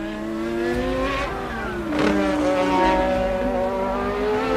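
A Formula One race car at full speed through the Belgian Grand Prix at Spa-Francorchamps, engine howling loud and near with rising and falling pitch sweeps as cars pass, over crowd and track ambience.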